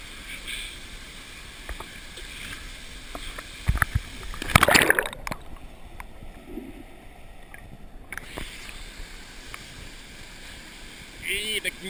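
Paddling a boat at the Falls of Falloch in Scotland, heard through a GoPro Hero 2: steady watery wash and wind noise, a loud splashing burst in the middle, then a muffled stretch, with voices now and then.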